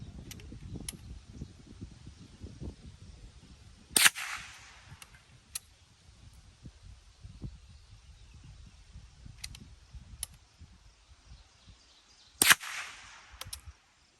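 A Springfield Model 15 .22 Long Rifle fires outdoors at a Manwich can, two sharp cracks about eight seconds apart over quiet ambient background with faint smaller ticks.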